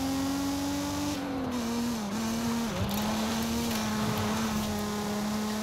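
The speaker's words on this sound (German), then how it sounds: "Das Auto fährt sich auf jeden Fall gut, hört sich gut an." A car engine in the video game Forza Horizon 5 hums at a steady drone with small pitch dips as it drives, loud and continuous with no talking.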